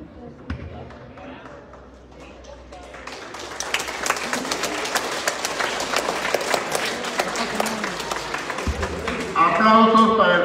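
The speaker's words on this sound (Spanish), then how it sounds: "Aplausos para el profesor Víctor Abanto Urbina" Applause breaks out at a school-year opening ceremony, a crowd clapping steadily and building in strength over several seconds after talk, with a voice speaking again near the end.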